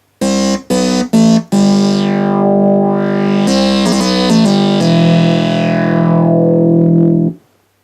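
An Arturia MiniBrute analog synthesizer plays loud, buzzy sustained tones blending sawtooth, square and triangle waveforms, opening with three short stabs before long held notes that sweep and shift in timbre, then fade to silence.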